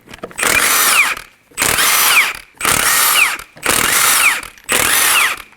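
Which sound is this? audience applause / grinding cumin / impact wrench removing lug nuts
impact wrench removing lug nuts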